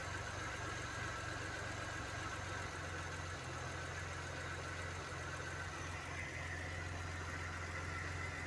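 A car engine idling with a misfire caused by a faulty MAP sensor, a steady low rumble with a faint irregular stumble in the hum, heard close and alone without talk.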